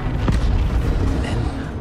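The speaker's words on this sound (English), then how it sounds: "First, the firestorm from the cannon." A cannon blast in a Battlefield 1 cutscene is a deep, rumbling boom that fills the low end, with a sharp report near the start and a rolling, sustained roar that continues afterward.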